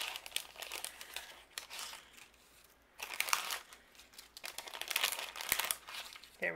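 A plastic die-cut pack of paper stars is handled during cardmaking, with soft crinkling and rustling bursts that come and go at close range and low level, with no talking.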